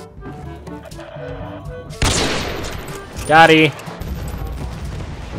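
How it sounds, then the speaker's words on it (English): Battlefield: Bad Company 2 gunfire and a heavy explosion burst out, with a sharp blast about midway, under someone talking casually. "Ah, explosions."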